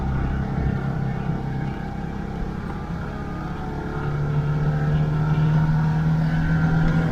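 A Citroen 2CV's small air-cooled engine labours uphill in first gear, a steady loud droning hum from inside the car whose pitch rises and holds as it strains.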